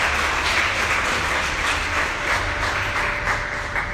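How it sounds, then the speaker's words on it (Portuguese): A church congregation applauds in a continuous, fairly loud wash of clapping with a slightly rhythmic pulse that fades a little toward the end. "Pode aplaudir Jesus, irmãos."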